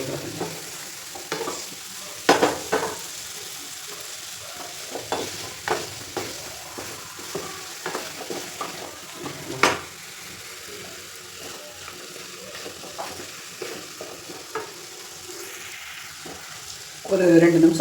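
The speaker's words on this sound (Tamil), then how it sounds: "இந்த மசாலாவிலேயே இந்த சிக்கனை பிரட்டி விட்டிங்கன்னா" Chicken frying in masala in an iron pan, stirred repeatedly: a constant low sizzle broken by frequent sharp scrapes and clacks of the stirring, with a louder burst near the end.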